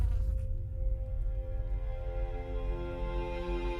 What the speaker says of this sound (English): Bro got stung by a bee.